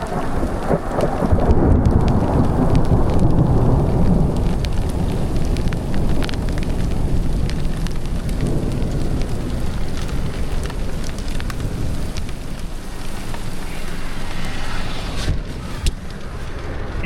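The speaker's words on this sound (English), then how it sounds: "Thunder's cracking right above, lightning every couple seconds. So the rain has moved to hail," Thunderstorm at Leavitt Lake off Highway 395 in early September, with rain turning to hail and thunder cracking overhead: a loud, steady roar of rain and hail with thunder rolling throughout.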